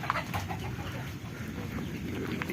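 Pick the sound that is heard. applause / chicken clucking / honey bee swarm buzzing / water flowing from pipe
chicken clucking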